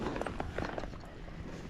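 Tennessee Walking Horse cantering up an incline, hooves giving a quick, uneven series of soft clip-clop beats close by over a steady low rumble of outdoor noise.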